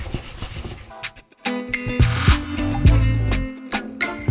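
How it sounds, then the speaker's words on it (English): Marinated onion rings are tossed and rubbed in seasoned flour for a spicy dipped chicken burger, giving soft, close rustling and rubbing scrapes in irregular bursts, with no talking. "Get a nice coat of seasoned flour first."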